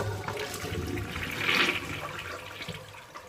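A clogged toilet flushing in a Guangzhou bathroom: a steady rushing, gurgling wash of water across the whole clip, swelling briefly near the middle before settling back, close and fairly loud with no talk.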